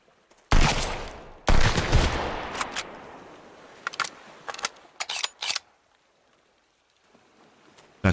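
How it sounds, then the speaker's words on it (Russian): Gunfire in the survival video game Sunkenland: a few loud bursts of shooting up front, followed by scattered quieter single shots and short volleys that fade toward the end. "Откуда он стреляет?"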